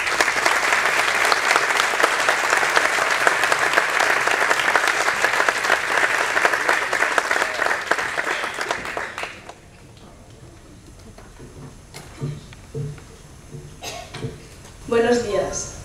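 Audience applause at a civic ceremony in Sagunto awarding a silver city medal fills the room loudly and evenly for about nine seconds, then dies away into scattered claps and a few room noises.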